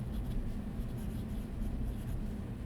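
A TWSBI Eco fountain pen with a medium nib scratching across paper in a continuous, close, soft writing sound.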